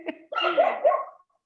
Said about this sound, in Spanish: Por aquí a alguien se le escucha el perrito.